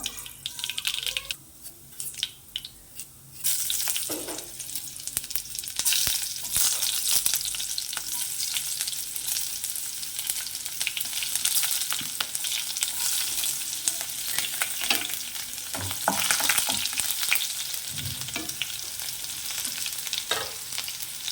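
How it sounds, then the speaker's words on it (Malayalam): Mustard seeds sizzle and pop in hot coconut oil for a drumstick thoran, a steady broadband frying hiss with scattered crackles and bursts of stirring, close and fairly loud throughout with no talk. "നമുക്ക് രണ്ട് വെളിച്ചെണ്ണ ഒഴിച്ചു രണ്ട് കടുകിടാം"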